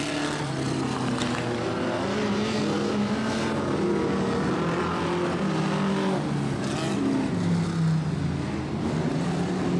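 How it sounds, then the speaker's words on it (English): Vintage midget race cars run a night demonstration lap at Archerfield Speedway, their engines droning steadily and loudly throughout with shifting pitch as the cars circle the track. "Coming to the end of uh, of demonstration run number one for the vintage midgets here tonight."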